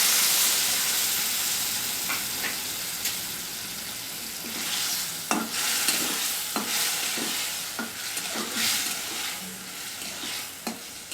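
Mango and boiled tomato frying in a pan for chutney, a steady close sizzle broken by repeated sharp scrapes and knocks of a spoon stirring, with no talk.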